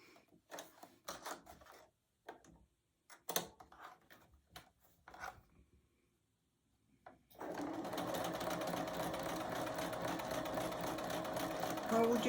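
A sewing machine stitches a quilt seam in a steady, continuous run that starts partway through, after several seconds of quiet handling of the fabric.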